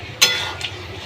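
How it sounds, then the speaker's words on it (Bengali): A spoon stirs chana dal cooked with onion and sprinkled garam masala in a pot, giving one brief, fairly close scrape followed by a fainter second scrape over quiet background hum. "দিয়ে এটাকে ভালো করে নাড়িয়ে নিতে হবে।"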